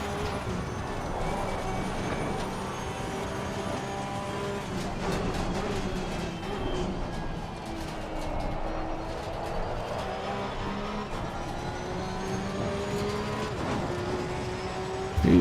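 Porsche 992 Cup race car engine in Assetto Corsa Competizione at Spa, a loud continuous racing engine note with rising and falling revs and repeated sharp downshift blips, close up and steady throughout.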